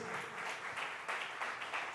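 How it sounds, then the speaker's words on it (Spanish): Applause from the guests at an anniversary celebration, a dense continuous wash of clapping that holds steady and fairly faint for the whole two seconds. "Yo quiero que le demos un fuerte aplauso al Señor por la vida de cada uno de ustedes."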